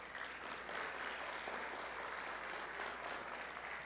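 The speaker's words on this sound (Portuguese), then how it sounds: "eu queria que vocês aplaudissem o nosso irmão Valdo" A church congregation applauds a visiting missionary, steady clapping from a crowd filling a few seconds without pause.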